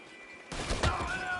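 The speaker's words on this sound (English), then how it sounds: "Looks like we're shooting our way out of here" A burst of gunfire in the video game Red Dead Redemption 2, a sudden loud volley after a quiet lead-in that rings out and trails off over a low in-game ambience.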